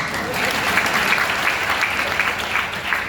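Sustained applause from a crowded audience, a dense steady wash of many hands clapping for the full length at a fairly loud, even level, with a faint murmur of voices blended underneath.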